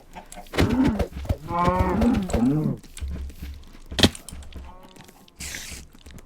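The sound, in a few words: cow mooing in a video game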